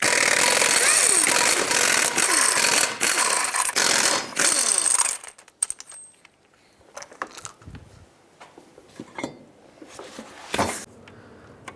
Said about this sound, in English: 21mm socket, remove all 6 of your lug nuts, and then take the wheel off.